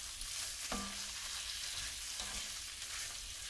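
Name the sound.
Swiss chard greens cooking down in a pan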